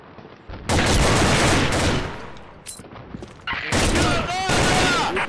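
Rapid bursts of gunfire ring out in a first-person shooter video game, loud and sharp, mixed with excited voices talking over the shooting and a brief lull before another volley.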